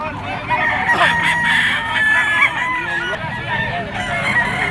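Sweater gamefowl roosters, yellow-legged birds on sale at a crowded pet market, crow repeatedly and overlap one another, with clucking and busy market noise under the calls.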